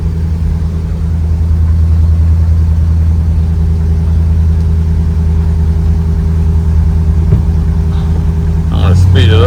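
The engine of a 1964 Ford Galaxie hums steadily at a low, even pitch during a brake test, loud and close, with a brief clatter and a slight rise near the end.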